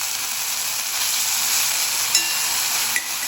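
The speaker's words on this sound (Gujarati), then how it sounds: "લીલી મેથી સમારીને રાખી છે ને એને થોડી ઘીમાં શેકી લેવાની" Chopped green fenugreek leaves roast in ghee in a pan, a steady, close hiss of sizzling with a couple of faint pops, no voices.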